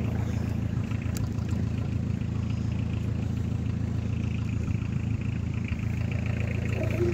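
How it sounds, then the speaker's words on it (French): The diesel engine of a Peugeot 205 XTD with a DX motor runs steadily at idle, a continuous low rumbling clatter heard close up and alone, without talk. "Le clac, clac, clac, le DX. Ça s'entend que c'est un moteur DX."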